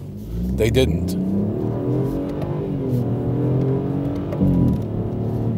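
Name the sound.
BMW three-cylinder turbo engine revving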